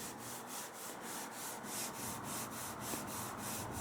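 Hand sanding of fine-grain body filler on a 1929 Chrysler body, a steady rhythmic rasping in quick regular back-and-forth strokes, close and fairly soft with no voices.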